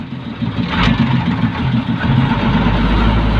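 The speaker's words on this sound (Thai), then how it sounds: "ครับเกียร์หนึ่งสบาย ๆเสียงเครื่องไม่หนักครับ" A vehicle engine runs in first gear at low load, a steady, moderately loud rumble with a brief louder bump early on and an even drone after.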